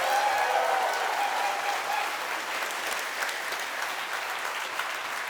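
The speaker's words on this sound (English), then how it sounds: "Round of applause for Niall, please" Sustained crowd applause at the CFz2017 convention opening ceremony, broad even clapping from a large audience that slowly tapers, with no talking over it.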